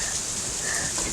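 Rain falls steadily during a thunderstorm in Canada, a continuous broadband hiss of drops with no distinct impacts over a short stretch.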